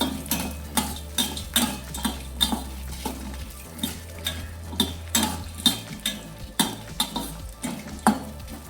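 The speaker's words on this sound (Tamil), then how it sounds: "ஆட் பண்ணி நல்லா வதக்கிக்கலாம்." Urad dal, cumin, dried red chillies and tamarind sautéed in a pan for ginger thogayal, with a spatula stirring and scraping in repeated strokes over a steady low sizzle of frying.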